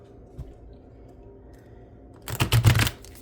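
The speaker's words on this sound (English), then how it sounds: "We're going to grab our deck and we shall shuffle." Tarot card deck being shuffled, a brief burst of close, crisp riffling and card slaps after a quiet stretch of faint room noise.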